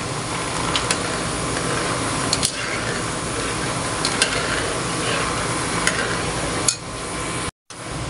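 Peanuts dry-roasting in a pan for homemade peanut butter are stirred, giving a steady close rustling, scraping hiss with occasional light clicks of the utensil against the pan.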